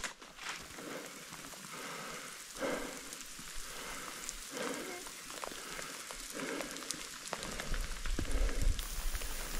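Steady rain patters and hisses on a surface close by on a mountain hiking trail near Mount Colden in the Adirondacks, New York, with a continuous broadband wash that swells slightly toward the end.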